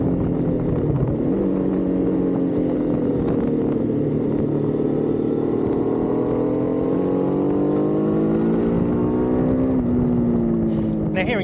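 Loud, steady engine drone of a 2026 Triumph Trident 800's 798cc three-cylinder motorcycle engine, pitch rising and falling as it revs, close and continuous.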